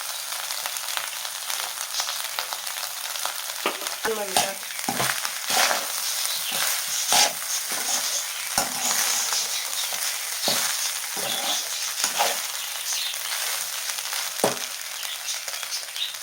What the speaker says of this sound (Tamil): உளுத்தம்பருப்பு, மிளகா, சீரகம் போட்டு கிண்டிக்கலாம்